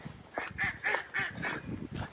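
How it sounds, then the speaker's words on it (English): Ducks call from the water of a lake at a bush reserve on a quiet morning, a run of repeated honking quacks at a steady rhythm, moderately near. "I can hear the ducks out there."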